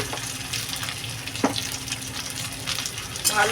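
Spices frying with rohu fish and taro (mukhi kochu) in a pan, a steady close sizzle with stirring scrapes and a couple of brief clinks, no talk.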